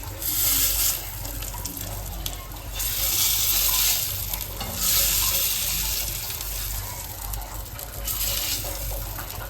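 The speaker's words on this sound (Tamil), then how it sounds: "இந்த முட்டை எடுத்து இந்த காளானில் போட்டுக்கலாம்" Boiled eggs that were lightly fried with salt are tipped into a mushroom pepper masala and stirred, giving steady close sizzling and frying with bursts of brighter hiss and scraping, with no talk.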